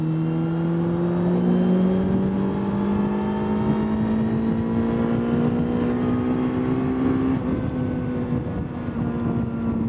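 A Suzuki GSX-S1000 GT motorcycle in sixth gear pulls past a truck, its engine note a steady, loud drone that climbs slowly in pitch under heavy wind rush, with no talking.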